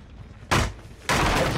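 A wooden pallet is kicked and broken in Dead by Daylight, two sharp splintering cracks half a second apart, loud and close, each with a brief crunchy tail.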